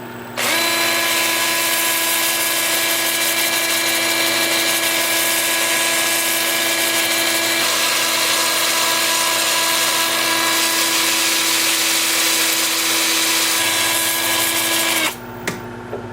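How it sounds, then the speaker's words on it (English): A 2-inch disc sander runs against a wooden root piece turning in reverse at 375 rpm on a lathe, giving a loud steady whining hum with high tonal overtones that holds evenly for most of the clip before cutting off. "I'm going to use my 2-inch disc sander starting at 80 grit, and I'll work up through 400 grit"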